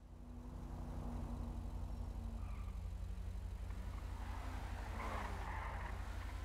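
A car engine in the video game GTA 5 revs and runs with a steady low drone and a rising, shifting pitch, loud and continuous with no talking.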